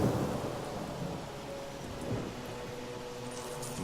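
Rain and thunder in Divinity: Original Sin, a dense wash of rainfall under low, rolling rumbles of thunder that swell at the start and again midway, with no speech.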